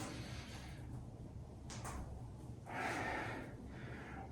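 A slow, audible yoga exhale during a vinyasa flow, a soft breathy rush of air rising and fading over a couple of seconds, close to the microphone in a quiet room with faint background hiss.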